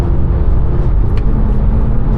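A Volkswagen Golf R32 with its V6 engine hums steadily while driving, a low, even interior drone with road rumble and no revving, heard alone.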